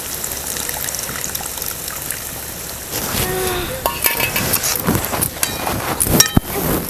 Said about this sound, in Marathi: हे बघा आता हे आमसूलचं पाणी पण घालायचं